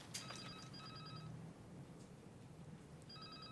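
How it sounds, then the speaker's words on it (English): A telephone bell rings in two bursts at the start, then rings again near the end, fairly faint against a quiet room background with no talk. "Sounds like a phone to me."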